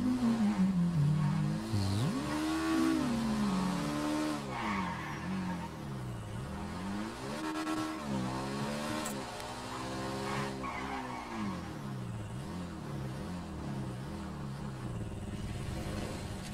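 Motorcycle ride in a GTA-style mafia roleplay game, the engine revving up and down in repeated swells with tire skids, loud and continuous for the whole stretch.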